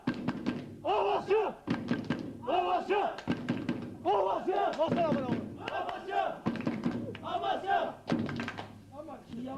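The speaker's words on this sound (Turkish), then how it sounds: "Seyircilerimiz yine coştu." Football spectators at an SV Amasyaspor Lohne match cheer and chant in loud, rhythmic bursts, a crowd of voices rising and falling with thumping beats between them.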